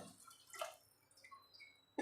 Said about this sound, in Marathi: पाणी घालून घेते